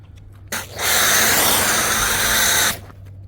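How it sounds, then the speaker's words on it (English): A loud, continuous hissing spray of foam onto a 2016 Mercedes-Benz AMG E63s, lasting about two seconds, with abrupt start and stop. "Okay, done foaming the car."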